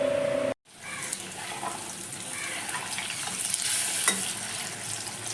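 Chili chicken fries in a pan with a steady, moderately loud sizzle and stirring. A brief dropout comes near the start, then the hiss continues evenly with light utensil scrapes and no talk.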